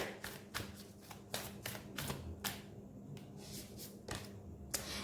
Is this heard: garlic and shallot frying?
no